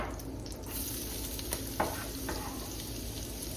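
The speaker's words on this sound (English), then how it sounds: "that onion is going to cook in that bacon fat" Diced onion hits hot bacon fat in a soup pot, giving a steady broadband sizzle and frying hiss with a couple of faint stirring knocks, close and alone without talk.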